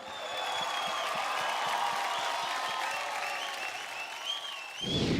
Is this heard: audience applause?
yes